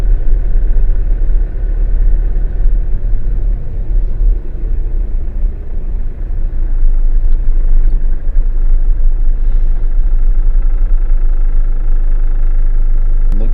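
A car crosses the open Ntwetwe salt pan in Botswana, its engine a steady low rumble with continuous road noise throughout, close and even, with no talking.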